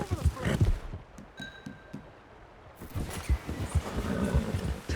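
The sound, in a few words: horse galloping in Red Dead Redemption II video game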